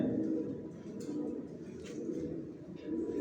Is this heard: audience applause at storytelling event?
no